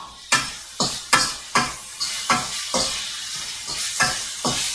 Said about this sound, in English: I'm going to add in my codfish. Give that a stir.